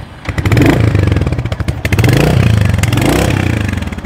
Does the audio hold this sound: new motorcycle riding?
yes